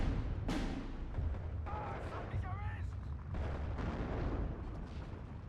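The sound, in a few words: mortar fire hitting target in Steel Division 2 video game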